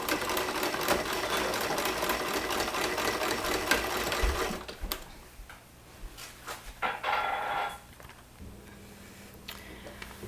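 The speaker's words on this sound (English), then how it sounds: "Sew my darts in real quick." A sewing machine stitches darts into a fabric purse, its steady rapid whirring running for about four seconds and then stopping, followed by quieter handling sounds of the fabric and a faint low hum.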